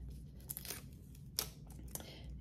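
Film backing paper on a medium format roll crinkles softly as its flap is folded in and sealed, with a few faint rustles and tearing-like crackles close by.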